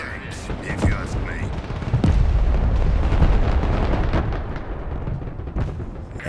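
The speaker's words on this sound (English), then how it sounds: "That rocket barrage from the Grad launcher" A Grad rocket launcher's barrage in the Broken Arrow video game, a rapid string of sharp launches and whooshes followed by heavy rumbling booms that swell into a sustained roar of explosions.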